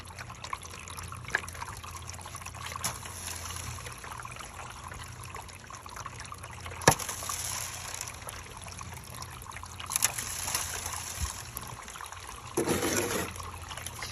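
Water from a garden hose trickles steadily through a homemade gold sluice lined with V matting, a continuous close running flow with a few small splashes and knocks.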